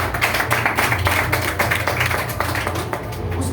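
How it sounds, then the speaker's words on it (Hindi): An audience at a health talk claps in a loose, rhythmic patter of individual hand claps, fairly close and sustained, fading slightly toward the end with no speech over it. "एक बार जोरदार तालियां सबके लिए।"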